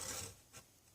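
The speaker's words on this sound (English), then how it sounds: "we're going to start with the steel frame bow saw" Coarse-bladed steel frame bow saw cutting through wood: a brief, faint rasping stroke followed by a shorter second scrape, close by, with no voices.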